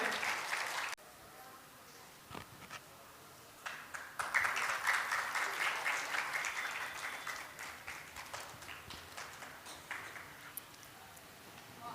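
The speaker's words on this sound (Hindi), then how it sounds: "जो महाराज जी का सम्मान करने के लिए एक जोरदार ताली से साथ स्वागत करें" A crowd welcoming Maharaj ji at a religious gathering breaks into applause that swells after a few seconds and then thins out gradually, the clapping moderately distant and fairly faint in a reverberant space.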